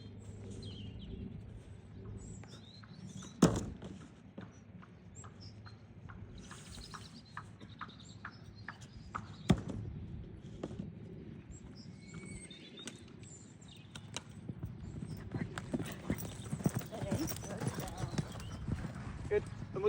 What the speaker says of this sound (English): Keep that canter stride on the shorter side.